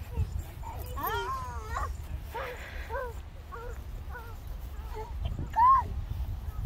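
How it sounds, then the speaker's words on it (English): A dog yips and whimpers in short bursts over a steady indoor background, close by, with a voice mixed in among the cries. "Dog. Woof."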